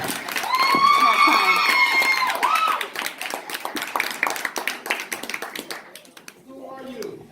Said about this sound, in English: I can't follow up with that applause